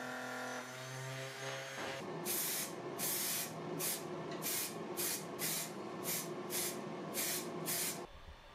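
A spray can hisses in a series of short, even bursts while a 6mm plywood robot plate is painted white, each burst close and loud, preceded by a brief low rattle.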